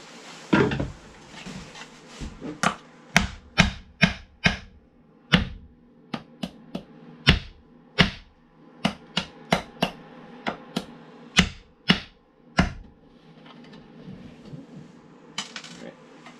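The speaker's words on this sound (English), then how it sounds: "take apart the old drawers that were in the nav desk so I can reuse the faceplate with the drawer pull" Old wooden drawers from a boat's nav desk are pried and knocked apart, giving a series of sharp, irregular wooden knocks and clacks spread across the clip, close by with quiet pauses between and no talking.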